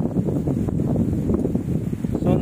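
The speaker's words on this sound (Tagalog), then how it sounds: "So, lakas ng hangin dito." Strong gusting wind on a mountain summit buffets the microphone with a low, rumbling roar that surges and eases continuously.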